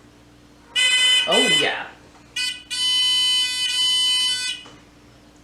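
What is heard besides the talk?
electronic buzzer buzzing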